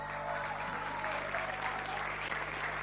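A crowd at Argentina's pavilion at Expo Milan applauds the Choque Urbano performers: soft, distant, continuous clapping over a low steady hum, never rising or breaking.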